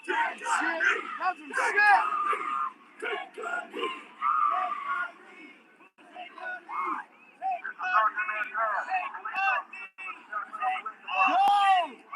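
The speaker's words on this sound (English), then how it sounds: "Instead, the crowd is responding with "take a knee," Protest crowd during George Floyd demonstrations chanting "take a knee" toward a police line: many voices shouting in repeated rhythmic bursts, moderately distant, with some louder individual yells rising over the group.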